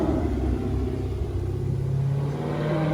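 A customized car engine idles with a deep, steady rumble close by, holding a constant low drone without revving or talk.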